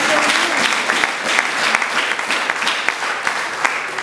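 A church congregation claps together in a dense, steady burst of applause that fills the room, with a few sharper individual claps standing out.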